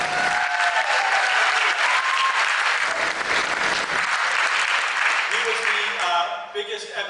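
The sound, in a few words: audience applause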